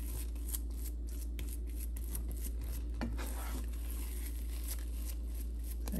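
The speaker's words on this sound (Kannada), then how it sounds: "ಇದೊಂದು ಸ್ವಲ್ಪ ತಿರುಗಿಸ್ಕೊಳ್ಳೋಣ." Mango kesari dessert stirred in a pan, soft scraping and light clinks over a constant low hum, faint and close.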